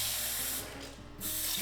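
Water rushes steadily down a newly installed bathroom sink drain, a continuous hissing flow that dips briefly in the middle before surging again.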